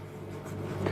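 Marker or chalk scratches faintly on a board during a chemistry lecture, a soft continuous scraping over a low room hum.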